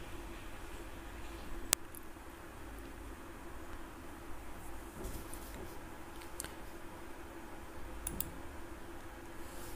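A computer mouse clicks while a photo is selected on screen: two sharp, faint clicks several seconds apart over a quiet hum, with no talking.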